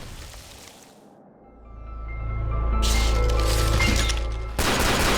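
A grenade explodes in the video game Parasite Eve: The 3rd Birthday, first a short lull, then a swelling deep rumble with a crackling burst and a sharp jolt near the end, loud and sustained.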